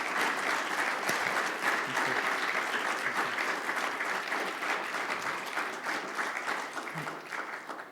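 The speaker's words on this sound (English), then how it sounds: "Would you give our presenters another round of applause?" An audience at a panel talk on populism and progressivism gives its presenters a sustained round of applause, dense steady clapping that fills the whole stretch and slowly thins toward the end.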